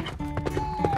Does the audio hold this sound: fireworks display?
no